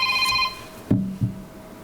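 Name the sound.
mobile phone ringing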